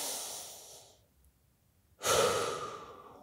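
A person exercising breathes hard during a hip shift rockback drill: a long forceful exhale, a brief pause, then a loud close-up inhale that gradually fades.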